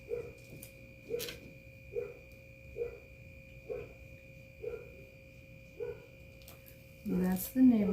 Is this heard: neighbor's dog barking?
yes